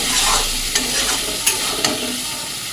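A spice paste of chilli, turmeric and salt sautéing in a pan, with a loud, close, continuous sizzle and a few brief scraping stirs; no speech.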